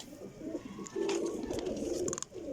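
Pigeons cooing in a loft, a steady low throaty coo running throughout with a brief higher chirp near the end, close and fairly loud.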